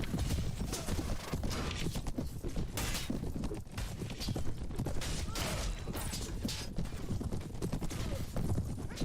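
Horse archers ride in a Mount and Blade: Warband battle, their hooves a dense, continuous clatter of galloping mixed with battle noise, loud and unbroken throughout with no voices.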